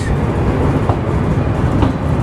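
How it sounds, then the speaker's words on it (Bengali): The Ruposhi Bangla Express rumbles loudly and steadily from inside the carriage as it enters Kashiani Junction, with a deep continuous roar and faint rattling, no voices. "কাশিয়ানি জংশনে প্রবেশ করতেছে আমাদের ট্রেন রূপসী বাংলা"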